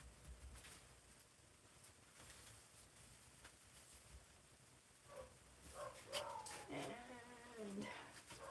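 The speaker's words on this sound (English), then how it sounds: "I don't know if you can hear my dog upstairs barking." Freya, a dog upstairs, barks and whimpers in short muffled bursts from another floor. The sounds start quietly midway and grow busier toward the end over a faint indoor background.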